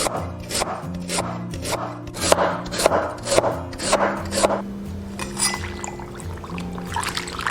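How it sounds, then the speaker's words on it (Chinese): A knife slices a peeled 9-hole lotus root into thin pieces on a board with quick, evenly spaced chops up close. Later come lighter clinks and watery sounds under a faint background hum. "把这个9孔莲藕的皮削掉，然后切薄片。"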